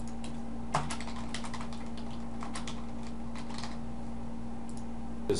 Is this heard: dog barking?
no